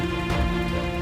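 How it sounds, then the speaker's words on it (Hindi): Heavy unseasonal rain pours down steadily in a dense, continuous wash, close and loud with no talk over it. "बेमौसम बारिश और वो भी ऐसी"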